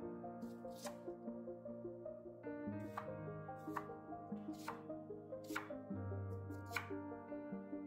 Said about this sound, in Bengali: পেঁয়াজ দুটো একটু মোটা মোটা স্লাইসেই কাটছি।